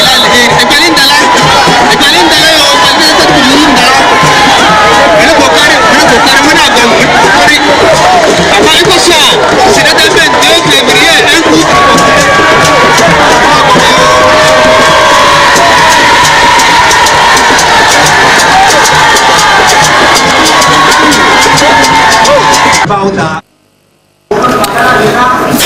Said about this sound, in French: Et voilà, bain de foule, accueil populaire